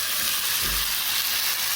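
Seasoned kidney beans sauteing in a hot pan give a steady, loud broadband sizzle throughout, with one brief low thump of stirring partway through and no voices.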